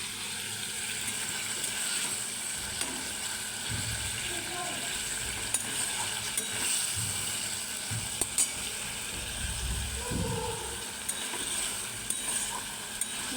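Stalks and potatoes coated in spices fry in a pan, giving a soft steady sizzle with occasional stirring scrapes and clinks, close by and fairly quiet.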